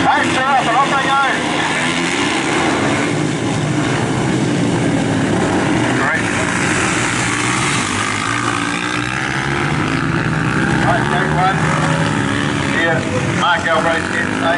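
Flat track speedway motorcycles fire up and leave the start gate at Rosebank Speedway, a loud sustained engine roar with rising revs, mixed with crowd noise and an announcer talking over it.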